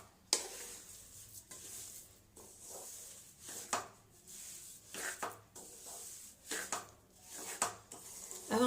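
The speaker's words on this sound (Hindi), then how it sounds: "अब हम इसे बिल्कुल सिम गैस पे चलाते हुए बीच बीच में चलाते हुए भूनते रहेंगे" Besan (gram flour) stirred and roasted in a pan over a low flame, a soft, close, rhythmic rubbing and scraping of the spoon, stroke after stroke, uneven in pace, quiet and with no voices.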